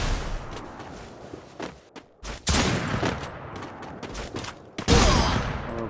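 Gunfire in the Free Fire video game, with dense, sharp shots in rapid bursts separated by brief gaps, loud and close, with no talk over it.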